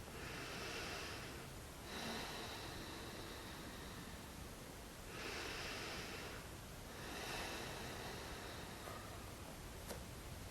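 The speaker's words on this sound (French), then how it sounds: "vous entendez peut-être beaucoup la respiration" Deep, slow yoga breathing, faint and close. Long airy inhales and exhales rise and fall in a steady cycle about every three seconds, with no speech.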